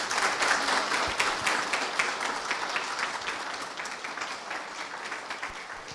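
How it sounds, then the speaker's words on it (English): Dense, sustained applause from an audience for a panel at an evening event, steady and full throughout, slowly tapering, with no voices over it. "And a big round of applause"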